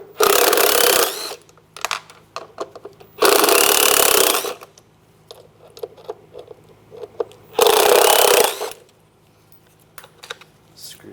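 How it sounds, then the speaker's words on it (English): A power tool with a T25 socket removes window motor screws inside a Dodge Durango door: three loud whirring bursts of about a second each, with small clicks and handling noises in between. "We're going to take the window motor off, use a T25 socket,"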